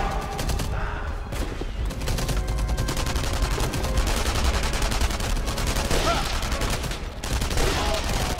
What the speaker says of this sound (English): I shoot a gun using ammo